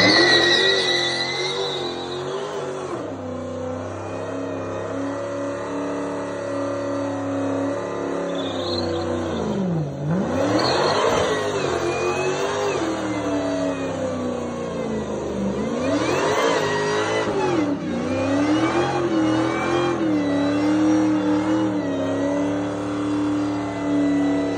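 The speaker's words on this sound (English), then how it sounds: "We got a badass burnout video." A 1111whp 2023 Dodge SRT Super Stock doing a burnout, its engine held at a loud rumbling idle before surging through several rising and falling revs, with screeching tire noise, close and dominant, no talking.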